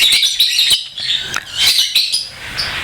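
A male lovebird kept in a colony with separate cages chirps and squawks in rapid, shrill bursts, loud and close, with no talking.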